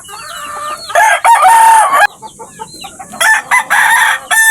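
Pet chickens clucking in repeated bursts with a rooster crowing loudly nearby, calls overlapping in uneven spurts.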